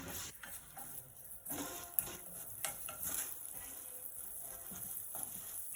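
Onions fry in a pan on a stove for tomato chutney, a faint steady sizzle under light stirring and scraping with a few soft clicks.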